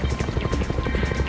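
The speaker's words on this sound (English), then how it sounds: "One of the helicopters positioned nearby makes its way to the compound to assist in evacuating them" A military helicopter moves toward a compound during a night raid. Its rotor thump is loud and close, with rapid, even blade beats and a buzzing engine whine underneath.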